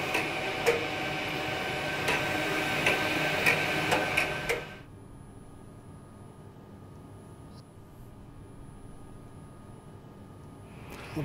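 Océ Arizona 550 GT UV flatbed printer printing, sending out a steady series of close mechanical ticks and whirs for about five seconds before it stops and leaves near silence.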